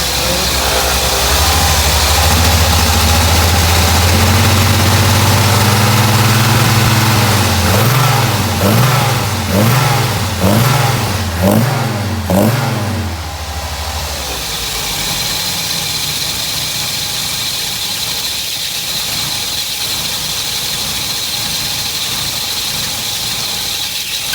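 A Toyota 22R engine runs loudly with a rough, pulsing revving early on on a cold start, then settles into a steady, lower idle at about 500 RPM that continues to the end.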